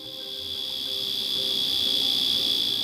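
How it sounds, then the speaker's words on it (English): A mechanical alarm wristwatch rings with a shrill, continuous high-pitched buzz that holds steady for a few seconds, slowly growing a little louder, with no talking. "I just love the sound of the alarm."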